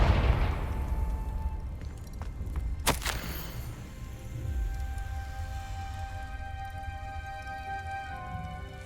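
Confringo fire spell from the video game Hogwarts Legacy: a sharp blast cracks out mid-clip over a rumbling low ambience, followed by ringing tonal tails that linger and fade.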